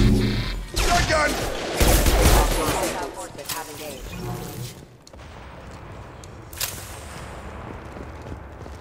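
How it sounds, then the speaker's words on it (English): Shotgun blasts and a chaotic firefight in the video game Mass Effect 2, with loud bursts of gunfire early on, then a quieter stretch of scattered shots and combat noise, with voices mixed in. "Shotgun!"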